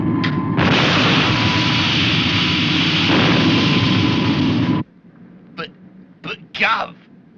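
Two engines of the Supercar craft fire up and roar loudly and steadily for several seconds, then cut out abruptly, leaving faint bursts and brief voices.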